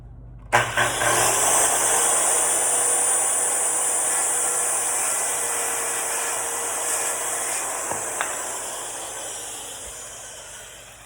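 A circular saw cuts through a board, with a loud, steady high-pitched whine that starts abruptly and runs continuously, slowly fading toward the end as the blade winds down.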